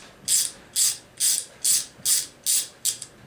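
A hand ratchet clicks in seven even, close bursts as it drives a tool into threaded holes to clean them out, with no voices.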